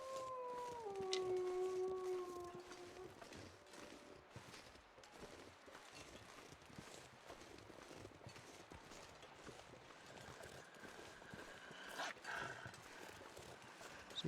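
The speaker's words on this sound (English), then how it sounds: "Wow, there's so many wolves around." Wolves howl in The Long Dark, a survival video game: a few drawn-out, wavering howls rise and fall over the first seconds, then give way to a steady windy wilderness hiss with faint scattered noises.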